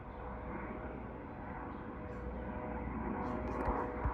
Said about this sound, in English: There's no other airplanes right now, so we just see the chopper.